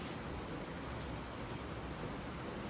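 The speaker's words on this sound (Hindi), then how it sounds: "बारिश हो रही है तो हो सकता है क्लियर ना आए आवाज़ थोड़ा बहुत ना।" Steady rain falls outdoors, an even, dense hiss that stays constant and fairly faint throughout.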